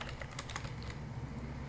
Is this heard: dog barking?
no